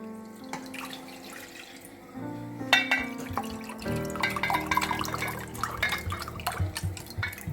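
Water poured from a measuring cup into a pot for Bengali puli pitha dough, with splashing and dripping, close and moderately loud, alongside kitchen clatter.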